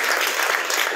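Brief burst of dense, close applause at a provincial association meeting for the national vice president, many hands clapping evenly with no voices.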